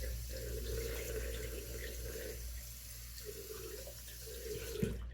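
Water runs steadily from a bathroom tap into a sink while a razor is rinsed, a close, continuous hiss with slight pulsing changes in flow and a small clatter near the end.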